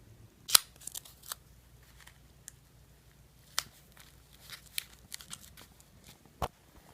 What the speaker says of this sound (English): I'll tack it in place with duct tape